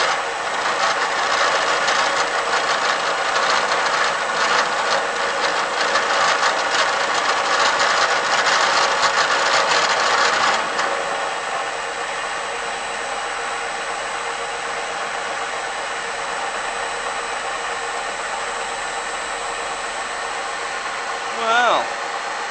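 A Bridgeport milling machine runs with a steady mechanical hum and a sustained high whine, then quiets noticeably about halfway through as it winds down, leaving a low, even drone.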